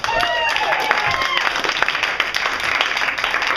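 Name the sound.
audience round of applause for volunteers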